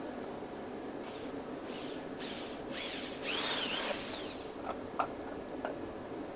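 A power drill whirs in several short bursts with rising and falling pitch, drilling holes while assembling a barber pole, plus clicking and tapping of tools, fairly quiet and with no talking.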